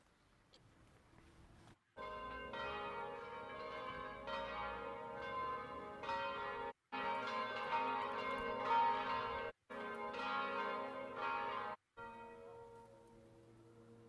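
Church bells ring out over the Italian city of Piombino during lockdown, several overlapping bells pealing loudly and continuously in long sustained phrases, broken by a few brief pauses.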